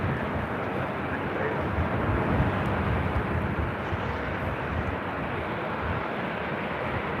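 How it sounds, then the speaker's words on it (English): An Alaska Airlines Boeing 737-800 jet airliner at LAX produces a steady, moderate engine rumble that holds evenly throughout, with no talk over it. "Alaska Airlines Flight 1083 heading to Seattle in the 737-800"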